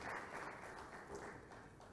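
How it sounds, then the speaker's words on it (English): Audience applause at an inauguration and planning meeting, a brief burst of clapping from a seated crowd, fairly faint and distant. "Please, a round of applause to Dr. Kenton Dashil."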